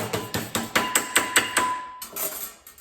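A hammer strikes a metal cookware lid to bend it, roughly a dozen sharp, evenly spaced clanks ringing close and loud, with no talking.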